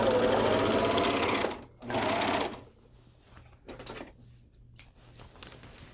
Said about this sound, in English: So I put serger on that really quick.